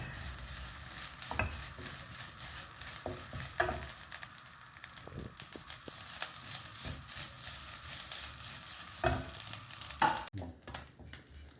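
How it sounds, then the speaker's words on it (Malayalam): Grated coconut dry-roasts in a pan while a spoon keeps stirring it, making a steady scraping and rustling with a soft sizzle and occasional sharper scrapes. "തേങ്ങ നമുക്ക് റോസ്റ്റ് ചെയ്തെടുക്കാം."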